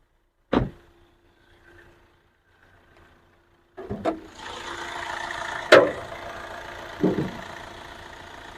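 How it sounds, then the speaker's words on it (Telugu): A Hyundai i20 Asta diesel engine idles with a steady, close rumble after a few quiet seconds, broken by a couple of sharp knocks and thumps. "ఇంజన్ బీటింగ్ కూడా చూడండి, చాలా అంటే చాలా స్మూత్గా ఉంది."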